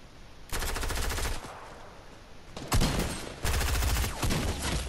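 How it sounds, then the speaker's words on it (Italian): Rapid automatic gunfire in the Fortnite battle royale game comes in three loud bursts of fast repeated shots, separated by brief quieter gaps. "Da dove sono andati questi spari?"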